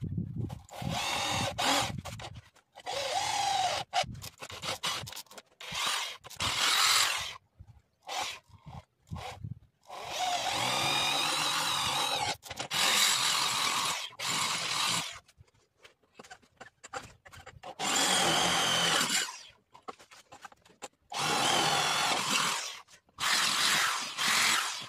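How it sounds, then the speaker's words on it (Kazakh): Power drill fitted with a 6 mm bit boring holes while a homemade exercise machine is built, heard as repeated loud whining bursts of a few seconds each, separated by short pauses. "Алтылық бұрғы."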